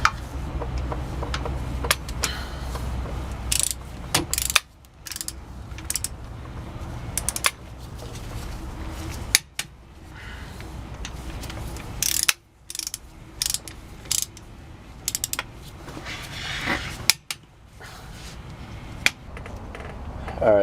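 Ratcheting torque wrench clicks in repeated bursts with short pauses, tightening the rear differential cover bolts on a 2000 Ford Excursion in a garage; the clicks are close and clear, with occasional background speech-like noise.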